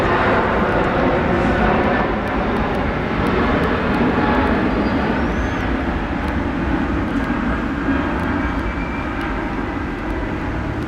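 An Emirates Airbus A380 airliner departs Brisbane Airport with a loud, sustained jet engine roar that holds steady throughout, broad and rumbling, heard from the airport.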